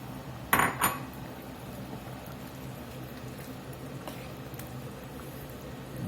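Sausage and bacon dropped into an old pot for a southwest-style cowboy stew land as a brief pair of clattering clinks early on, followed by quieter low rumbling and a faint later tap.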